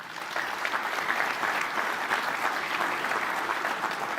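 Sustained applause from an audience at a Brazilian Industry Day event attended by President Lula, dense steady clapping filling the room without a break, fairly loud and close.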